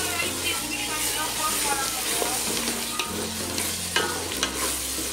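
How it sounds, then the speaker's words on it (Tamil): Onion and masala sautéing in oil in a pan, a constant close frying sizzle with repeated scraping stir strokes and faint background voices. "நல்லா எண்ணெய் பிரிஞ்சு வர அளவுக்கு வதக்கிக்கோங்க. வதக்கிக்கிறேன்."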